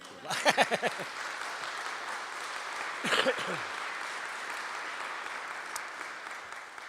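An audience at a biogas cogeneration facility groundbreaking ceremony claps in a steady wash of applause, with short voiced cheers rising above it twice.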